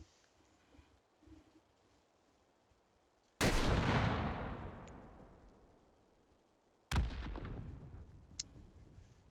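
Two loud, sharp blasts from an M1A1 bazooka firing rockets out of its tube, each a sudden crack followed by a long, fading rumble, a few seconds apart outdoors.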